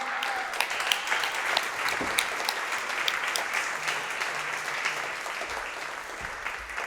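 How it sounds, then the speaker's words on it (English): Audience applause at an art gallery talk introduction, a sustained round of clapping from a seated crowd, moderately loud and even, tapering slightly toward the end. "Please give them a very big round of applause."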